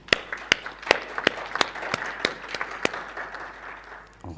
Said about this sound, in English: please join me for applauding our very excellent panelists